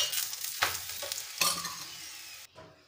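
Methi paratha frying in oil on a pan, crackling sizzle that swells in bursts as it is pressed and turned, then cuts off abruptly near the end.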